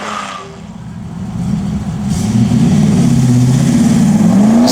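A TVR V8S race car accelerating up a hill climb course, its V8 rising from a distant rumble to a loud, close roar as revs climb over several seconds.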